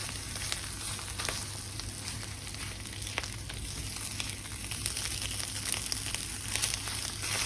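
About half a teaspoon of butter sizzles quietly in a pan for kababeh taveyee, a soft steady hiss with faint crackles and light scrapes, close and alone without speech.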